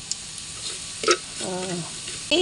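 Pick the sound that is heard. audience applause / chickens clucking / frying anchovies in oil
frying anchovies in oil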